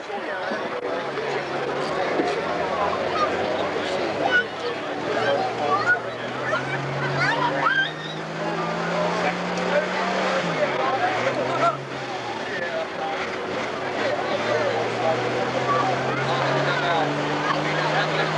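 A super stock pulling tractor at a 2002 NTPA Grand National pull in Georgetown, Ohio, roars at full throttle, its engine pitch rising and falling in long sweeps, with an announcer talking steadily over it amid crowd noise.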